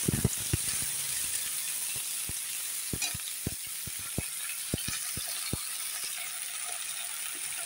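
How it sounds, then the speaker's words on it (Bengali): Potatoes and flat beans stirred with salt and turmeric in a sizzling pan, with a steady frying hiss under a string of sharp, irregular spatula scrapes and taps against the pan. "লবণ দিয়ে একটু নেড়ে দিলাম।"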